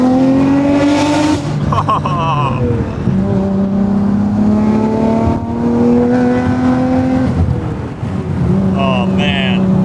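A Nissan Skyline GT-R with its RB engine pulls hard from inside the car, the loud engine note climbing steadily through several gears with brief dips at each shift, droning continuously for the whole stretch.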